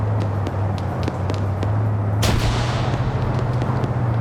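Grenade explosion in a PvP military shooter game, a single loud broadband blast about midway through, set against a steady low engine drone and scattered distant gunfire cracks.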